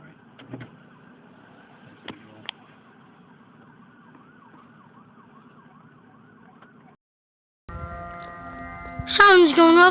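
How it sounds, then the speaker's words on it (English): The Huntington fire station siren wails faintly and distantly at first, then cuts in loud and close near the end with a sharp rising pitch; no one speaks over it. "That was Huntington Fire Station siren going off."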